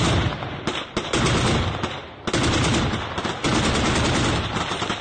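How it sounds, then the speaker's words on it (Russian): BTR armored personnel carrier gun firing in rapid, loud bursts of heavy automatic shots during combat in Donbass, with a brief pause between volleys. "Для того, чтобы подавить сопротивление боевиков, силовики применили орудие БТР."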